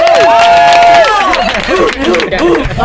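A studio audience at a teen sports radio show claps and cheers, a loud close burst of crowd noise with voices calling out over the applause, fading slightly toward the end.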